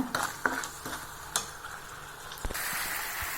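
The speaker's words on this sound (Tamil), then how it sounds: "நல்லா கட்டியாகிற வரைக்கும் கிண்டணுங்க" Green grape jam being stirred as it thickens in a pan, with soft scraping strokes and a gentle sizzle, a few louder clicks of the spoon against the pot scattered through, no voices.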